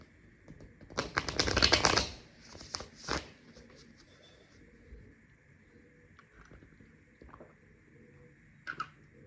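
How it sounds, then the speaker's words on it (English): Tarot cards riffle and slap together in a quick burst of crisp shuffling, followed by a few softer taps and handling noises in a quiet room. "I'll give a quick shuffle to the cards."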